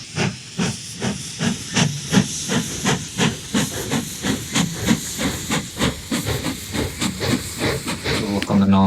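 A steam locomotive pulls away in the train-building game Mashinky, hauling crude oil, with steady rhythmic chuffs over a constant loud hiss of steam, the beat holding even throughout.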